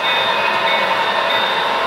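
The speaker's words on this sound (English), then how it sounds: "Here we've got a Milwaukee Road detouring passenger train that has entered the scene" An HO scale model Milwaukee Road passenger train runs through a layout scene, a steady, loud whirring hum with a sustained high whine and no pauses.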